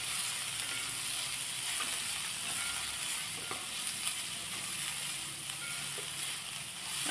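Thinly sliced onion sautéing in a pan with a steady, even sizzle and occasional faint stirring scrapes, close and continuous with no talk.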